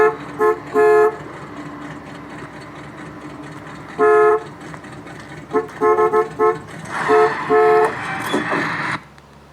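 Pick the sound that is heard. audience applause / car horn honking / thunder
car horn honking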